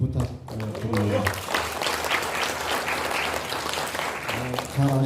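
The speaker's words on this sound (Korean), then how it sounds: "우선 그분들한테 다시 한번 큰 박수를 좀 부탁드립니다." Audience applause at a youth-month award ceremony for an MRA anniversary event, sustained dense clapping for several seconds after a voice, fading as he resumes speaking.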